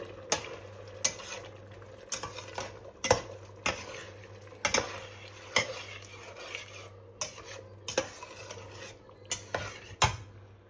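Chana dal is stirred and fried in ghee with masala, a spoon scraping and clacking against the pot in a steady rhythm of sharp strikes over a low background sizzle, close and clear.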